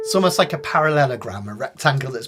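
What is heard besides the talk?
No distinct noise like a dog, phone or traffic.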